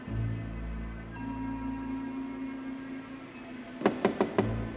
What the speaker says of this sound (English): He's knocking at the door.